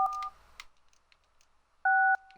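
A telephone is dialed in the adventure game Thimbleweed Park. A few quick keypad tones sound close up, followed after a short gap by one longer, steady dual-tone beep.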